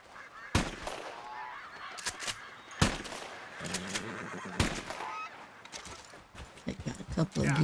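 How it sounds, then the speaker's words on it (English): Geese honk in the video game Red Dead Redemption 2, several sharp, loud calls and a few sharp bangs spaced through the scene, with low chatter and rustling between them. "I got a couple of geese."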